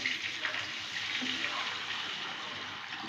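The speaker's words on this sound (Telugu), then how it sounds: "వాటర్ వేసుకుంటున్నాను గాయస్." Water is poured into a pan of fried tomato for semolina upma, a steady, fairly quiet rushing hiss that holds evenly throughout.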